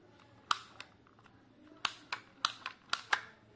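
A Dymo Omega embosser feeds label tape with a handful of sharp, close clicks at irregular intervals, quiet between presses and with no voices.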